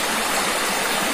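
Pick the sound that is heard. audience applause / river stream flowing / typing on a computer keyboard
river stream flowing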